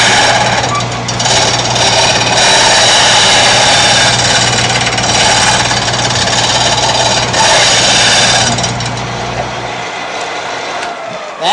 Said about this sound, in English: I'm going to hold the pod against the ledge so that I can roll the chisel back and forth.